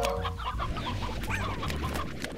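Chickens in the video game Slime Rancher cluck and squawk in a busy overlapping flurry over a steady game backdrop, with no talk.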